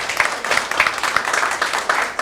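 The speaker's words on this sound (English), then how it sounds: "Big clap for Casey." An audience at a rice breeding partners' annual meeting in Tanzania claps, giving steady applause from many hands that carries on without a break.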